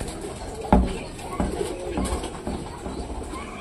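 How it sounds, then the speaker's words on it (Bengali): Pet pigeons cooing in a backyard loft, low soft coos with a sharp knock near the start, some background movement and faint speech-like sounds around them. "তো পায়রা দুটো তো খুব সুন্দর উড়ছে"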